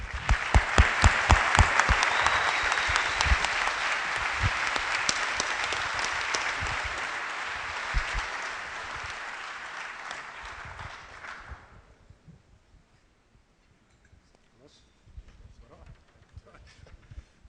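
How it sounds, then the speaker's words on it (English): Loud, sustained audience applause at a business association's annual general meeting, dense clapping that fades out after about twelve seconds, followed by a near-silent room with faint stray noises. "we owe a real round of applause for Mohammed Mansour"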